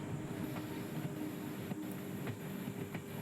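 Long-distance passenger train pulling out of the platform on its way toward Leh Ladakh, heard from inside as a steady low rumble with faint rhythmic wheel clicks and creaks, continuous and moderately quiet.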